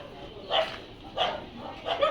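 Dogs barking outdoors near a field and road, three separate bursts of barks and yips spaced about a second apart, moderately close, with faint background noise.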